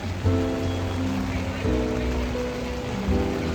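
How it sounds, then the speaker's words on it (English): Steady rain hissing and pattering outdoors at Epcot, Disney World, with a low hum and people talking underneath throughout. "It's raining."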